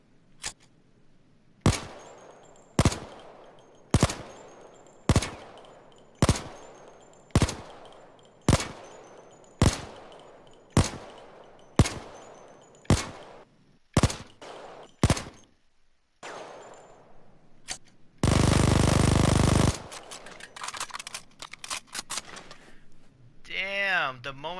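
Heckler & Koch MP5 submachine gun fire in Payday 2, loud sharp shots in a steady evenly spaced series of about a dozen reports, then a burst of dense continuous noise and scattered clicks.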